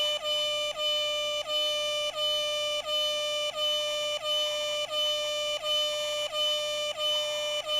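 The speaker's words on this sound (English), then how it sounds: "We'll do a 21 air horn salute for y'all." A harmonic air horn blast in Grand Theft Auto 3 Definitive Edition repeats about ten times in a steady rhythm, each tone sliding slightly at its start, loud and insistent.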